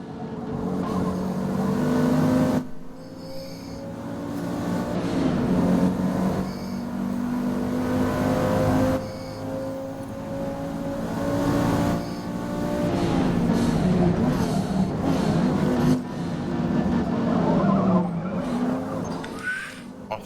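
A race car in Forza Motorsport laps a track with a steady, loud engine drone that rises and falls through gear changes, joined by bursts of tire scrub and skidding.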